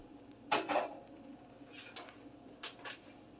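A spoon stirring jambalaya with a can of diced tomatoes and their juices in a pot, a few scattered scrapes and clinks against the metal, quiet between strokes.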